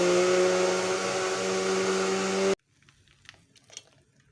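A blender whirs loudly and steadily, mixing banana, milk and sugar, with a high motor whine that then cuts off abruptly. Faint clinks and rustling follow in the quiet kitchen.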